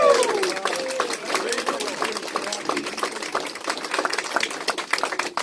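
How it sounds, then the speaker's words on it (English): A crowd applauds steadily, many hands clapping in a dense patter that carries on throughout, with a voice briefly heard at the start. "Let's give them a round of applause."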